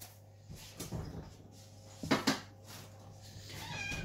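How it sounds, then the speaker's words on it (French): A pet cat meows indoors, a few short close calls over a quiet room, with light knocks and handling noises between them and no speech. "C'est rare, hein, qu'elle miaule"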